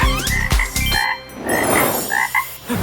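A small frog croaks in a cartoon-style children's nursery song, a few rhythmic croaks standing alone and up close with no talking over them.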